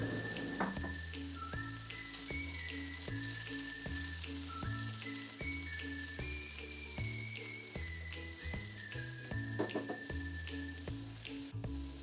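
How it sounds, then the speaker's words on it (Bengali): Bottle gourd pieces fry in hot mustard oil with radhuni seeds and green chili, a steady close crackling sizzle running throughout beneath a loud melodic background tune, with no talking. "তেলটা একটু গরম হলেই আমি এতে রাঁধুনি ফোড়ন আর কাঁচা লঙ্কা দিলাম"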